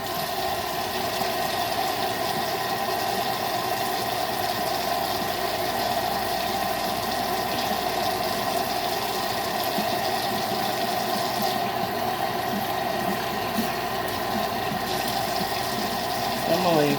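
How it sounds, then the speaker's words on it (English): Hot tap water runs steadily over chicken tenderloins in a new home's kitchen to defrost them, a constant mid-level gush and patter filling the whole stretch with no gaps. "I'm gonna leave some water running on them."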